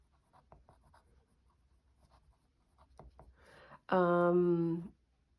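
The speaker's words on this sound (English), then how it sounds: "Let's write them down." A pen scratches out a handwritten list in a quiet room, soft irregular strokes and taps close by, then a loud sustained tonal squeal or whine abruptly ends it.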